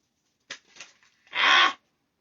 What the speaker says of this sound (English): let me shuffle these cards really quick